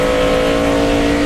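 NASCAR Nationwide race car engine heard onboard at Bristol, a loud sustained high-pitched V8 roar holding steady at full throttle, close and unbroken.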